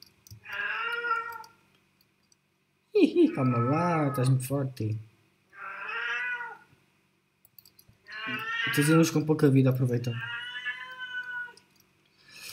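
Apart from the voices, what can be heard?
pet cat meowing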